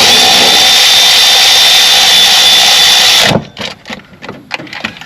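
A power tool runs steadily to tighten a bolt on the A/C compressor bypass pulley of a 1991 K-5 Blazer, a loud continuous whine that cuts off abruptly, leaving brief clanks and handling noises.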